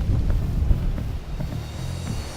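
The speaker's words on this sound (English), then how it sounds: "It's windy, but we're out of the wind." Wind blowing outdoors beside a cornfield, a steady low buffeting rumble with gusty swells across the whole stretch, no speech.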